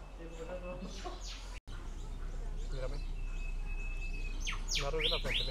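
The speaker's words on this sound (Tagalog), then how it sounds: "May mga iba-ibang ibon din." Assorted birds at Featherdale Wildlife Park give scattered chirps and short calls, some in quick bursts near the start and end, over a low steady background hum, with people talking faintly nearby.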